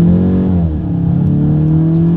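A 2023 Volkswagen Golf GTI accelerates hard in manual mode with paddle-shift gear changes, a loud close engine tone rising steadily in pitch without a break.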